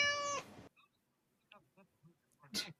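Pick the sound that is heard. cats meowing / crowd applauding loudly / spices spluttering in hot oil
cats meowing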